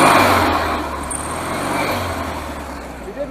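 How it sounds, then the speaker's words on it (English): A 1971 VW Super Beetle with an air-cooled engine idling, a steady low rumble heard close by and holding even throughout, with people talking over it. "The motor itself sounds really nice and tight."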